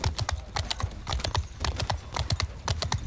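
Cavalry horses gallop in the video game Mount and Blade II Bannerlord, a steady rhythmic drumming of hooves that stays close and loud throughout the charge with no talk over it.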